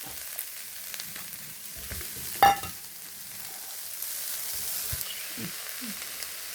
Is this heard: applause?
no